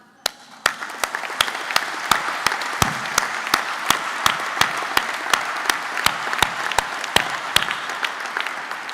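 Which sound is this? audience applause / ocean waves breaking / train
audience applause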